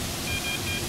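A faint electronic beeping tone repeats a few times over steady background noise, a carp fishing bite alarm sounding.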